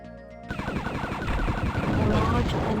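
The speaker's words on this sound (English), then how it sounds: "that's a lot of things you're firing at me" Rapid machine-gun style fire in a space shooter video game, a fast rattling stream of shots starting abruptly and continuing loudly to the end, with game effects and some voice mixed in.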